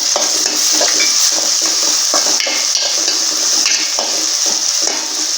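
One medium-sized cut tomato sautés in hot oil for mutton ennai kari. A loud, constant close-up sizzle is broken by frequent spatula scrapes and stirring against the pan.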